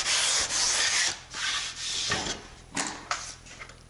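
Close-up hand sanding on planed pallet wood with 220 grit on a sanding block, several long gritty rubbing strokes that slow and shorten toward the end.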